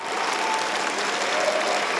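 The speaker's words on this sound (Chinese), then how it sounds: "这掌声持续了10几秒" An audience at Taiwan's National Day celebration applauds before President Lai Ching-te's speech, producing a dense, sustained ovation of many hands clapping with no talking.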